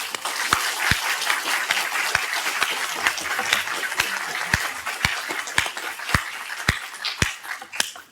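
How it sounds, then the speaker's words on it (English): A crowd at the ACF Nationals quiz bowl finals between Stanford and Chicago A applauds both teams, a steady patter of clapping with sharp, distinct close claps standing out over it. "Let's get a hand from the crowd for both teams."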